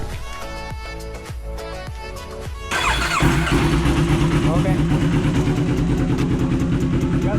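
A Yamaha R25 motorcycle engine fires up a few seconds in and settles into a loud, steady idle, with a short spoken word near the start.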